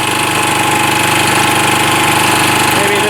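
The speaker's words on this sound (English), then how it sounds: "it's got a bit of a hammer noise too, which isn't maybe so good" A secondhand engine idles steadily and loudly up close with a rapid, rhythmic hammering knock running through it, a smoky machine bought off a marketplace, with no talk over the sound.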